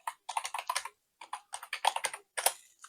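Fast bursts of clattering keystrokes on a computer keyboard, close and clear, arrive in short rhythmic runs separated by brief pauses, with no voices.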